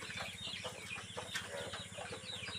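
Hybrid Sonali chickens on a poultry farm cluck in a dense, busy chorus, many birds overlapping with short repeated calls over a steady low background hum.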